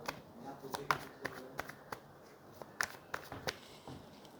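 Tarot cards being shuffled by hand close up, a quick run of crisp riffling snaps and flicks in irregular bursts, with no talking over them.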